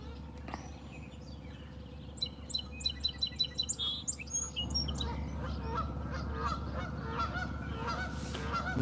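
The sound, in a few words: geese honking in a yard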